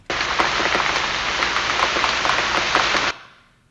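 Steady, dense rain patters down for about three seconds, a continuous hiss of drops that stops abruptly.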